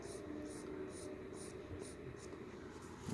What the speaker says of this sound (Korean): 그 안에를 해칭으로 한번 긁어 보겠습니다